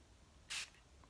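One quick, soft spritz of a face mist spray bottle, a short burst of hiss in an otherwise quiet room.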